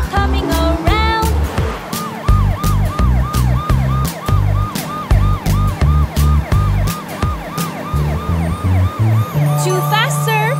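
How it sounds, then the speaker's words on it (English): Cartoon police car siren wailing in rapid repeated up-and-down sweeps, loud and close, with a bouncy rhythmic backing beneath it and brief voices at the start. "Now I'll turn my siren on. The police are coming around."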